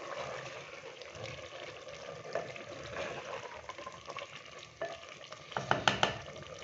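A turnip, potato and pea curry with finely chopped green chillies is stirred in a hot pan, soft frying sizzle under repeated scraping and clattering stirs, sharper knocks near the end.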